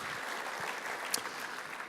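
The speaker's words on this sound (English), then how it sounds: "Big round of applause for those folks that are" Applause for the hosts at an awards night, a crowd clapping steadily in a large room, fairly soft and even with one brief louder clap.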